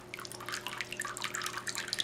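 Water from a homemade tabletop fountain falls through four small holes drilled in its lid. It makes a quick, continuous patter of light drips and trickles over a steady low hum.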